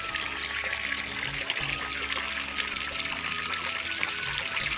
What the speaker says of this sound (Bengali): আর দেখো পিসি পাতা ধুচ্ছে